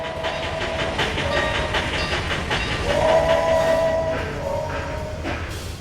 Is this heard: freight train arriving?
yes